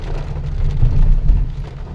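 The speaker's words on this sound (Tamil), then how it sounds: "மழை வந்து பயங்கரமாக பெய்யுதுங்க." Heavy rain pours steadily during a trip in Bangalore, a loud, dense, continuous wash with low rumbling underneath, and no voices.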